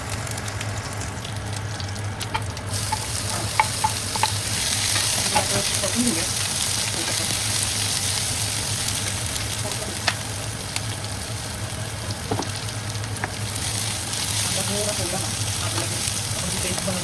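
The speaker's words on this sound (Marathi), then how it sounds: "आता आपण मोहरी टाकूयात." Mustard seeds sizzle in hot oil for pithla, a steady crackling fry running the whole time with faint stirring clatter and a few sharp pops, close and moderately loud.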